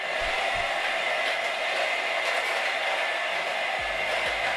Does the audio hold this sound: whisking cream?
yes